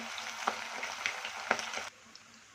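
Chicken kebab pieces fry in hot oil, giving a soft steady sizzle with small crackling pops, fairly quiet, briefly thinning out near the end.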